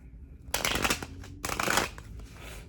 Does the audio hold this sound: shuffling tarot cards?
yes